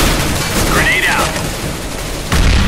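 A grenade goes off in the video game CS:GO, a loud, rumbling blast over sustained gunfire noise, followed by a fresh heavy burst just before the end, with voices mixed in.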